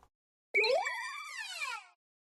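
The cry of Lampent, a Ghost and Fire type Pokémon: a single rising, warbling electronic chirp that bends upward then fades, about a second and a half long, heard alone.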